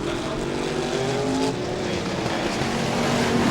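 A BriSCA Formula 1 stock car roars around the track, its engine a loud, steady, close drone for the whole stretch, with no talk over it.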